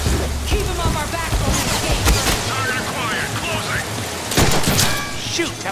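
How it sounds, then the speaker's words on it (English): Gunfire and booming blasts in the Deadpool video game, a dense continuous barrage of shots with heavy low rumble and a burst near the end, loud and sustained, with voices in the mix. "Shoot, that was my favorite bullet!"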